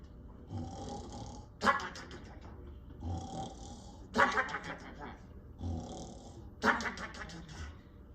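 A voice imitates loud snoring: three long rasping snores, each building to a harsh, sputtering peak, repeated at a steady slow rhythm.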